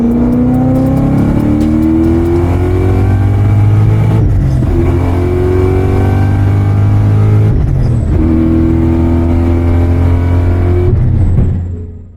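An 800+ hp supercharged Ford Mustang accelerates hard from inside the car, its engine roaring loud and close through repeated rising pulls. Brief dips between pulls suggest gear changes.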